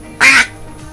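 A single loud, close quack from a domestic duck, one short raspy call standing alone against a quiet background.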